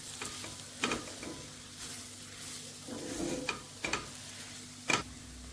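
Roasted mussels (kallumekka) are stirred into sautéed onions in a pan, giving a soft steady sizzle broken by several sharp scraping and clinking spoon strokes against the metal, close by with no talking.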